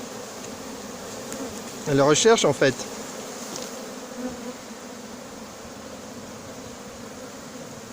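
An agitated honeybee swarm on a wall at Soignolles-en-Brie gives a steady, close buzzing hum, briefly overlaid by a short spoken French remark.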